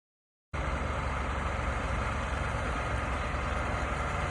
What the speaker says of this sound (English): Truck is backed up and ready to go